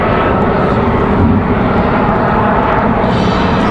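A Frontier Airbus A321neo landing in a crosswind at Raleigh-Durham gives a loud, steady, broadband jet roar close by, sustained throughout without talking.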